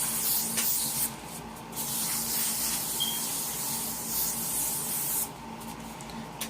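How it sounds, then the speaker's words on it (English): Hairspray hisses from an aerosol can in long continuous bursts, briefly pausing between sprays, close and fairly loud. "I'm going to spray them"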